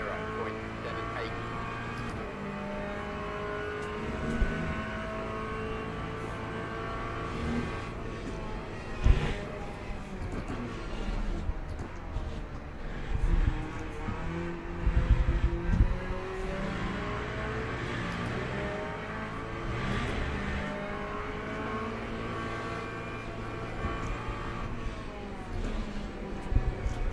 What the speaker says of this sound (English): You got that scary hypercar coming up again